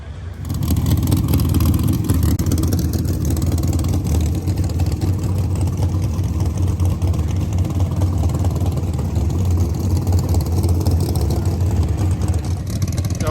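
Powerful Pro Mod drag racing engines roar continuously and loudly for the whole stretch during qualifying, a dense, rumbling racket with no break.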